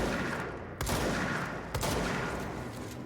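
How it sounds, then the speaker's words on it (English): Grenades exploding in the video game Control, two sharp heavy blasts about a second apart over a dense, rumbling gunfire backdrop, loud and close. "They sure do like their fucking grenades, goddamn."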